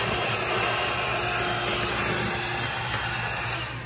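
A vacuum cleaner running steadily while cleaning dusty crevices and corners, a close, constant whooshing whine with no pauses or voices.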